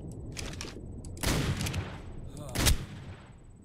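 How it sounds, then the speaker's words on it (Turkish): Rifle gunfire in ARK Survival Evolved, a few sharp shots with two louder booming blasts among them, close and punchy over a low background hum, with no talk. "Elimdeki tüfek çok iyi vuruyor ya."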